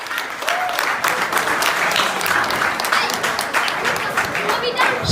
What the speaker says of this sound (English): Please, a round of applause for Dr.